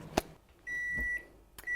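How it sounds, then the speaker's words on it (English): A microwave oven beeps when finished, a few clear electronic tones, one sustained and another starting at the end, with faint clicks in a quiet kitchen. "the microwave's gone again, so let's get this pudding out"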